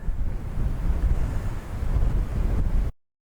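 Breezy wind blows outdoors at a lakeside campsite in Texas, buffeting loudly against the microphone in a steady rushing roar with gusts, then it cuts off abruptly near the end.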